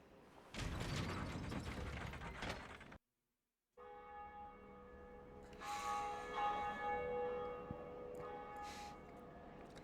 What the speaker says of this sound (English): The bell chimes, echoes throughout the land of Lordran.